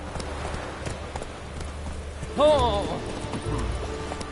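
Horse hooves galloping in The Witcher 3 video game, a soft rhythmic clip-clop running beneath a brief exclaiming voice and a whinny-like tonal cry midway, with game ambience around it.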